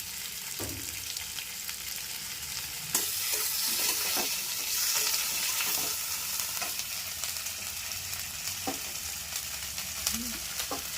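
Ginger-garlic paste and tomatoes sizzle steadily in a hot pan for a spicy crab curry. The frying grows louder after a few seconds, with occasional clinks of utensils and stirring.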